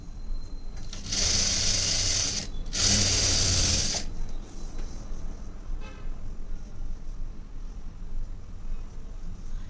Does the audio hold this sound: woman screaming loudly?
no